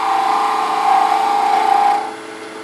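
A wood lathe turns green wood while a tool slowly cuts away a small knob, a steady close whirring hum that fades slightly toward the end.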